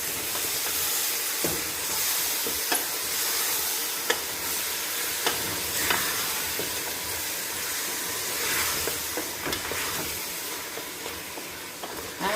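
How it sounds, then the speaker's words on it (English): Pelau with ketchup frying and simmering in a pot, a continuous steamy hiss and sizzle with occasional scraping stirs and small pops, close and steady, with no talking. "We're going to continue to allow it to simmer, fry, allow that to do its thing for a couple minutes"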